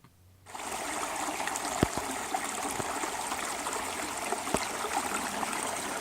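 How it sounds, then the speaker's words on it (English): A small stream on a hiking trail trickles steadily after a brief quiet start, a constant close gurgle of running water with a couple of faint knocks. "here's a little stream that's probably going to be dried up"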